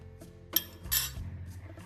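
A metal spoon stirs curdling milk, with vinegar added, in a pot while making homemade cream cheese, giving two short, close clinks and scrapes against the pot over a quiet background.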